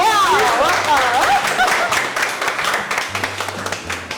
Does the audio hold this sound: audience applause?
yes